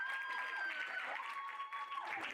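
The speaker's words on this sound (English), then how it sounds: "Also applaud Lucinda David for achievement in coordinated" Audience applause at a school speech and prize giving day, a continuous patter of clapping from a seated crowd, heard at a distance under a voice announcing award winners.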